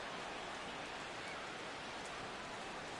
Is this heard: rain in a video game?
yes